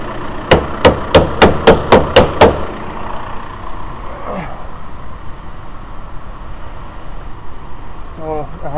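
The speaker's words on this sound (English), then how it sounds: "So I'm just going to tap on the bottom of the gas tank," Seven quick, sharp metallic taps strike the bottom of the gas tank on a VW A4 PD TDI with an in-tank pump, evenly spaced in a short burst, then give way to low background noise.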